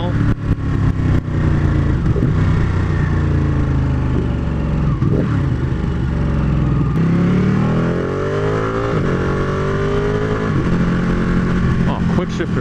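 Ducati 959 Panigale sport motorcycle ridden fast, its engine loud and close throughout, revving and rising in pitch through several gear changes, with wind rush and a rider talking over it.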